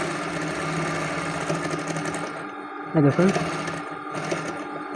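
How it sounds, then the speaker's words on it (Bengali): A sewing machine stitches a kameez neckline in a steady whirring run, close and loud, pausing briefly near the end while someone talks over it. "এই যে আমি চাপ সেলাই দিয়ে দিতেছি।"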